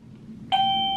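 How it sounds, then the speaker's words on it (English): A Digoo DG XYA smart video doorbell chime sounds once, a sudden clear electronic tone that rings on steadily over a quiet room hum. "so it's also ringing this doorbell"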